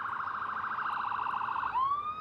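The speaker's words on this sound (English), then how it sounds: "there's a siren going by us right now." An emergency vehicle siren passes close by in a rapid, steady wailing warble that shifts to a rising tone near the end, loud and alone with no talk over it.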